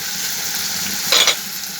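Small cleaned mourala fish go into a hot pan of oil, a steady close sizzle flaring into a brief louder hiss and spatter as they hit the oil, with no talk.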